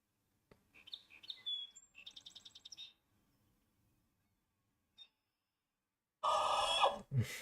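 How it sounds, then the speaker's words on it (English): A bird in the military shooter game Grey Zone Warfare gives a quick series of high, bright chirps and trills, clear and alone against near silence, followed later by a sudden loud burst of broadband noise. "That bird is the spawn of Satan."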